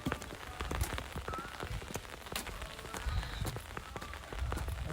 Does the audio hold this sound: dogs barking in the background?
no